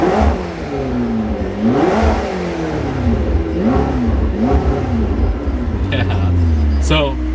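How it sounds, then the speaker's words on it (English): A 2020 Toyota Supra with an AFE intake is revved repeatedly nearby, several sharp rising and falling engine blips in succession, with people talking over the sound. "rev this thing up"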